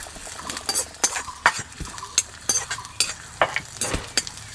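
Ginger, chopped green chili and five-spice (panch phoron) fry in a wok, a bright crackling sizzle punctuated by sharp, rhythmic scrapes and clinks of a spatula against metal, close and fairly loud without speech.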